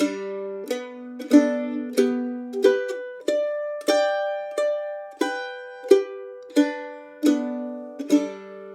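A mandolin plays ringing two-note double stops in a steady rhythm, each pair plucked crisply and sustaining briefly before the next.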